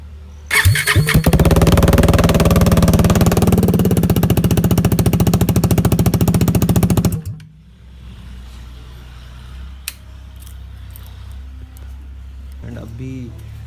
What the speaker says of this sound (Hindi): तो मैं अभी बाइक स्टार्ट करके एक बार आवाज़ सुनाता हूँ आपको।